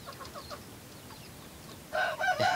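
Soft clucks and chirps from chickens, faint at first, then a louder burst of clucking close by toward the end.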